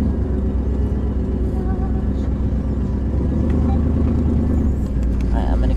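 RV rolling down the road from inside the cab, a loud continuous engine rumble and low road noise holding steady throughout, with people talking over it.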